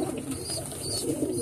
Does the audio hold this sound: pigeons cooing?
yes